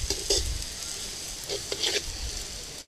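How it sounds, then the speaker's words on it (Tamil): Food sautéing in a pan in a village kitchen: a soft, steady sizzle broken by a few scraping stirring strokes, fairly quiet and close. "நல்லா வதக்கலாம்."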